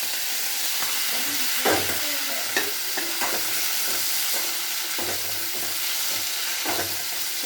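Broad beans fry in a tempering with curry leaves in oil, making a continuous crackling sizzle with repeated clicks and scrapes from stirring, close and fairly loud.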